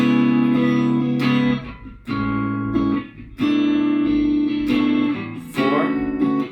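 A four-chord progression running 4, 3, 1, 2 and ending on a minor 11 chord, played as sustained, rich chords with distinct changes roughly every second or so, clear and alone.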